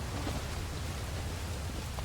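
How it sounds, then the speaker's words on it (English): Heavy rain of blood falls on a mountaintop in the video game Pathfinder: Wrath of the Righteous, a dense, steady hiss of downpour with a low rumbling undertone and no voices. "It's also raining blood, so that's always fun."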